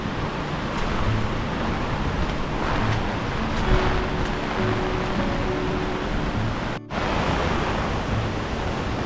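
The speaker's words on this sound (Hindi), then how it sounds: "यह है काबरे केव्स का वाटरफॉल" Waterfall at Kabre caves near Bendewadi in a forested waterfall area, a steady broadband roar of falling water, continuous and fairly loud, broken by a brief handling bump near the end.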